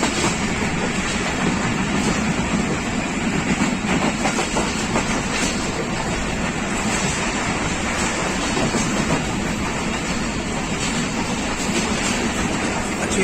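A Pakistan Railways Rehman Baba Express train runs along the rails with a steady, loud rumble and faint clickety-clack that continues unbroken throughout.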